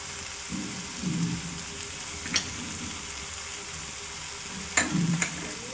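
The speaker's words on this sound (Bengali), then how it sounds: "এঁচোড়টা দিয়ে দিলাম, এঁচোড়টা দিয়েও কষবো।" Jackfruit and potato pieces sautéing in hot oil in a pan for a prawn curry, a steady soft sizzle with occasional stirring scrapes and sharp clinks of a spatula against the pan.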